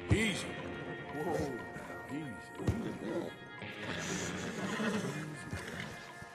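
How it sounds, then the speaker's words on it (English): A horse whinnies and snorts in the Red Dead Redemption 2 game world, with a few thuds and hoof sounds, all mixed under ongoing speech. "Marston, you're gonna tether him up to Javier's horse."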